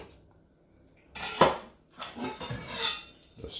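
Kitchen knives swapped among utensils, a couple of close metallic clatters and clinks of cutlery and dishes after a quiet pause.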